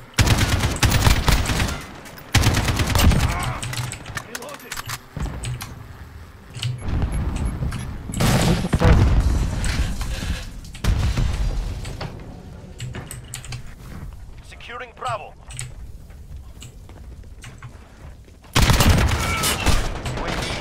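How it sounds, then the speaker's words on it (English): Rapid gunfire bursts from hip-fired weapons in Call of Duty Modern Warfare online multiplayer, loud repeated volleys in several bursts with quieter gaps and faint game chatter between them. "Hipfire is terrible with this gun."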